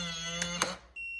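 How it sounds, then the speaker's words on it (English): A Baldwin electronic door lock sounds a short, thin electronic warning beep after a faint mechanical click. The tone is brief and clear in a quiet room. "this beep means it is detecting that the door lock has not worked properly"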